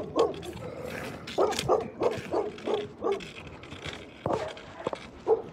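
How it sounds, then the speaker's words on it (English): A dog barks repeatedly in short, gruff bursts at a moderate distance, with a few sharper yips at irregular intervals during an outdoor walk. "that dog sounds mean."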